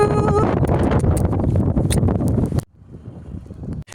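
Strong wind buffeting outdoors by the sea, a loud rumbling gusty roar that drops off abruptly near the end to a quieter breeze.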